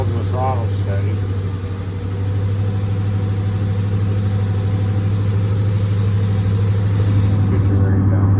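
A Hemi engine under repair runs with its throttle held, giving a loud, close, continuous drone with a strong low hum that stays fairly steady throughout.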